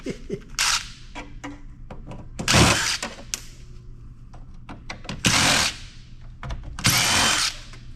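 Power drill backing screws out of a heavy amplifier being scrapped, several short whirring bursts with clicks and clatter between them, close and fairly loud.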